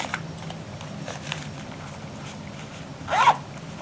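A zipper slides along a small sewn fabric zipper bag in one quick, fairly close pull near the end, after quiet handling rustles.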